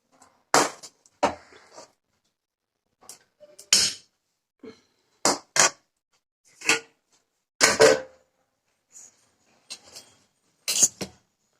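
Halwa scooped with a spoon into a dish as an offering for Laddu Gopal, giving a series of separate clinks and scrapes of metal on a plate with brief pauses between them. There is no talking.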